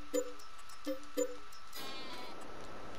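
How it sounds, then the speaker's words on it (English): Sheep in a field in Farming Simulator 22 on a Norwegian map let out three short bleats in quick succession, soft and somewhat distant, followed by a steady wash of ambient noise. "there are sheep in the field at least"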